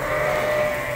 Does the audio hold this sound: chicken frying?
no